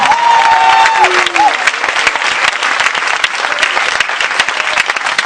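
A church congregation applauding and cheering during a service, a dense, loud burst of clapping that carries steadily to the end, with a few voices calling out over the crowd.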